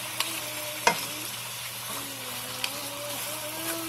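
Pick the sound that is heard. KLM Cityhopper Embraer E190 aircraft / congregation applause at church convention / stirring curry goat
stirring curry goat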